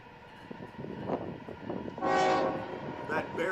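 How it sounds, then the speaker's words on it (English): An empty coal train heading back to Wyoming rolls past with a rumbling rattle of cars, then a loud sustained horn blast sounds fairly close, with no talking. "that bears all resemblance to an empty coal train."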